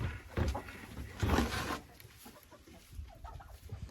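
Hens in a coop give several soft, close clucks in short bursts, with faint rustling between them and no talking.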